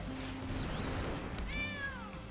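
A cat meows in Magic: The Gathering Arena, a single rising-then-falling synthetic meow near the end over a steady bed of game music, with a softer chime-like call earlier.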